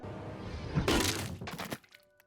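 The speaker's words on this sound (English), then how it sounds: "Luke suddenly throws a paint can tied to a rope, smashing Ricky's skull and ending his life." A paint can swung on a rope smashes into a skull in a film sound effect: one sudden loud crack and crunch with breaking debris, then a quick fade to quiet.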